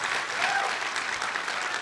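Convention audience at a comedy panel applauding, dense sustained clapping from a large crowd throughout.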